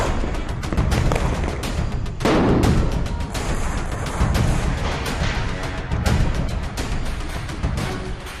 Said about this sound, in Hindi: तमाम पाबंदियों के बावजूद दिल्ली वालों ने जमकर पटाखे फोड़े।